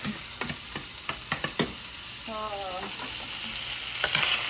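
Bacon frying in a pan for a bacon mushroom chicken chili gives a steady close sizzle, broken by several sharp utensil clicks and scrapes and a brief whistle-like tone partway through.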